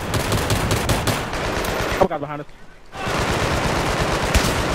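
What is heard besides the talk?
gunfire from many players in Battlefield 3 video game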